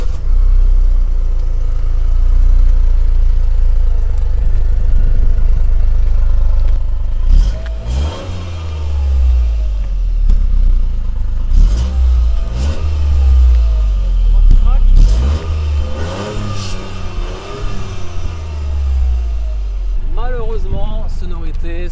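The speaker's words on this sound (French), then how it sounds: "On va voir un petit peu ce que ça vaut au niveau sonorité, ce petit 3 cylindres" The three-cylinder engine of a Toyota Yaris GR drones loud and close, then revs up and down in repeated surges with rising and falling pitch, a steady low rumble carrying under the whole run.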